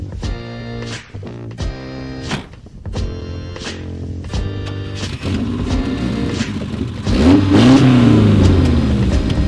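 A 1976 BMW 2002 engine revs in a series of sharp, loud bursts, then accelerates hard with rising, roaring engine tone, close and loud, with no talk.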